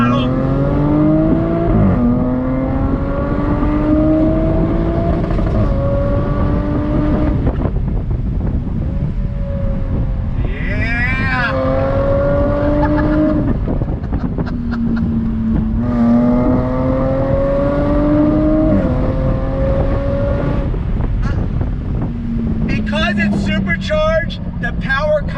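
A 2021 Jaguar F-Type R-Dynamic with a supercharged V6 accelerates hard through repeated gear pulls, engine note rising steeply toward redline then dropping at each shift, loud and close with wind noise throughout.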